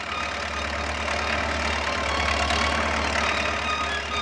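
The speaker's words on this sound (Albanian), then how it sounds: "Pas kësaj, zhurme e traktorit mbuçiti fushave." A tractor engine idles and chugs steadily out in the fields, a continuous low, rough rumble at constant loudness with no voices.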